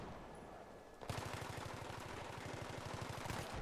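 An M16 rifle fires a long, fast automatic burst in Battlefield 3 on the Aftermath map, loud and close, with sharp regular shots following a quieter stretch of game ambience at the start.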